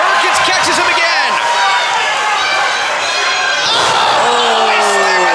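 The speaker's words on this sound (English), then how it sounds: "Oh, he slammed right into the buckle" A wrestler slams into the ring turnbuckle during a street fight match before a loud capacity crowd, the heavy impact buried in a dense, constant roar of crowd noise with arena commentary running underneath.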